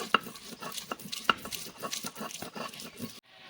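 Roasted pointed gourd with dried chillies and fried onion and garlic being ground into paste by hand, a close, rhythmic run of rubbing, scraping strokes with a couple of sharp knocks, ending abruptly.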